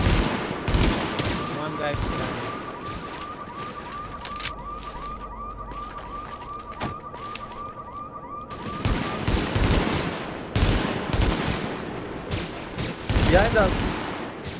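Bursts of automatic gunfire crackle through a tense firefight in the video game The Division, with rapid volleys starting, pausing and resuming, a steady tone and siren-like sounds behind, and excited voices talking over the shooting.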